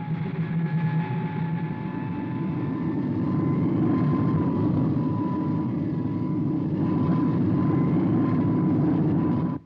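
An aircraft in horizontal flight gives off a steady, loud engine drone with a low rumble and faint tonal whine, holding constant for about ten seconds before cutting off abruptly.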